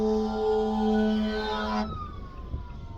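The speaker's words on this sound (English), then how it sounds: "we got a fire engine coming up behind me" A passing fire engine's loud wailing siren holds steady on a rainy road in Tennessee, then cuts out abruptly partway through, leaving a fainter siren tone trailing off in the distance.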